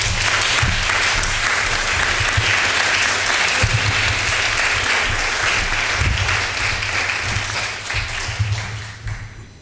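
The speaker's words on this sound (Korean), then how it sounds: "박수로 뜨겁게 환영했으면 좋겠습니다" A Sunday morning church congregation gives a warm welcome to a visiting pastor with loud, sustained applause that fills the room for nearly ten seconds and thins out slightly at the end.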